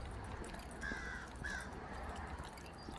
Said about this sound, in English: the crow said hi